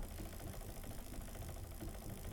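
Steady mechanical hum and rattle of a flying machine engine in the video game Fran Bow, running continuously at a fairly quiet, even level with no voices.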